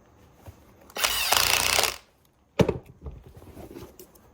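A power drill drives screws into Red Wing Beckman leather boots: a loud whirring burst of about a second, a pause, then a shorter grinding run of the drill, close up and without talk.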